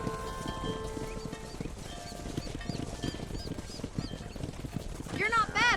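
Hooves clip-clop steadily as a herd of horses is driven in the Western game Red Dead Redemption, with occasional whinnies and a loud neigh near the end, under intermittent talk.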